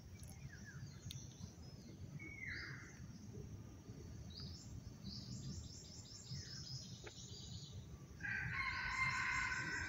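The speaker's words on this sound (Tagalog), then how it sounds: "May tumitilawak naman sa malayo" Rooster crowing in the distance outdoors, faint repeated calls among other chirping birds over a low background rumble.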